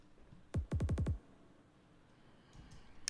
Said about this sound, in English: We also have this kick sample going, which doesn't have any processing on it.